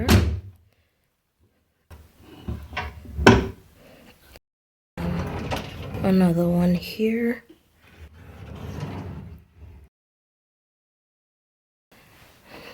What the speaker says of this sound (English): Yep, empty drawer.